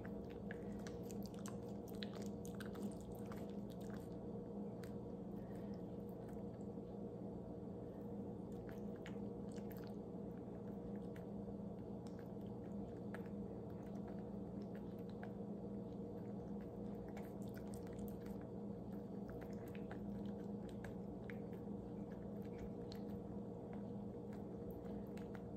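A dog chews and eats its food close by, with soft, wet mouthing and occasional crunchy bites scattered over a steady low background hum, continuing at an unhurried pace throughout.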